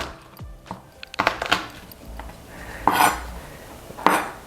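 Three garlic cloves smashed and chopped on a board, a series of sharp knocks and knife clacks at uneven intervals, close and moderately loud.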